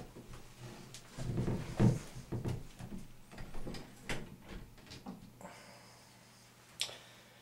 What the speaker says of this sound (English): Try to put the door back in.